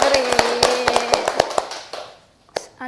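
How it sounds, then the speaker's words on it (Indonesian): Children clapping in an early-childhood classroom, a quick run of loud, uneven claps close by that thins out and stops, with a couple of scattered final claps and a voice over the start. "Tepuk tangan dulu buat kalian."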